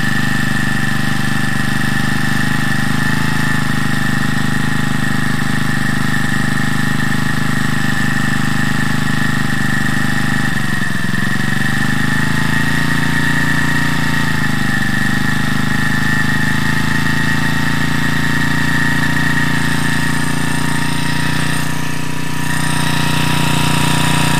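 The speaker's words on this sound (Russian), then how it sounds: "сделал минимальные обороты, а теперь буду опять вращать, чтобы найти самые высокие обороты" A Champion T334FS four-stroke brush cutter engine runs steadily and loud throughout a carburetor adjustment, its drone dipping briefly around the middle as the revs are changed, with no talking.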